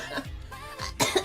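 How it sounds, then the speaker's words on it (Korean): A girl still recovering from a cold coughs in short harsh bursts, two rough coughs followed by a louder hacking one close to the mic, with no speech between them. "아직은 기침이 좀 있다"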